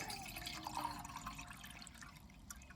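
Water pours from a tap into a mug at a car campsite, a faint, steady trickle and splash running continuously and softly for a few seconds with no voices.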